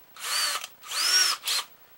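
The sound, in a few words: power drill drilling holes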